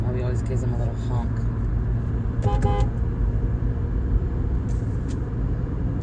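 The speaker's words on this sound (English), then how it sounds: "Bobby always gives him a little honk." A short car horn toot sounds during a drive from Tehachapi to New Cuyama, California, briefly rising over steady road rumble and engine noise inside a moving vehicle.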